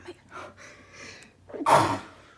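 A few sharp intakes of breath build up, then one loud, close sneeze bursts out at the end.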